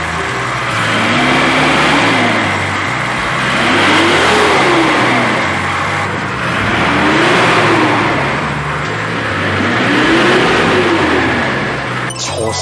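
A first-generation Nissan Fairlady Z's fuel-injected engine revs up and down repeatedly in slow, even waves, loud and close, returning toward idle between each rise.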